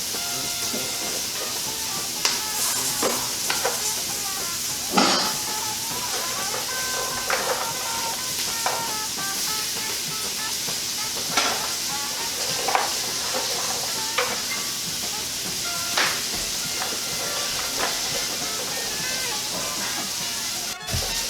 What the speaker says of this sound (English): It's supposed to sizzle like this.